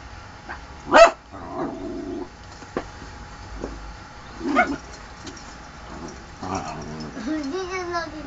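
A dog barking in short bursts while scuffling with a chicken, with clucking bird sounds and people talking in the background at moderate distance.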